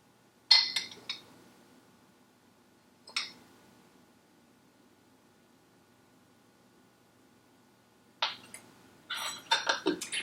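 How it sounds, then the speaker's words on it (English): A spoon clinks against a bowl while stirring yeast and honey together for a freshly milled flour bread loaf, with a few sharp separate taps early on and a busier burst of clinking near the end, close and fairly quiet. "We'll give it a quick mix just to get it going."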